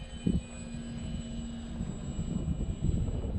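A Conscendo Evolution electric brushless RC glider flying, a faint steady whine and rushing hum at a distance under gusty wind noise, with a couple of brief thumps near the start.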